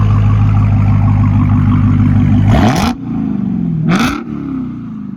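A straight-piped 2021 Dodge Charger SRT Hellcat V8 holds a loud, deep rumble, then fires two sharp throttle blips that rise and fall quickly, close up and alone.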